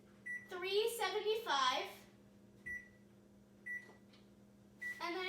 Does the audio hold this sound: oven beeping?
yes